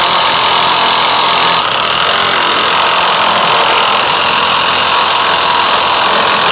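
A DeWalt full-size impact gun runs in one loud, continuous, harsh burst that fills the whole stretch, with no pause or talk.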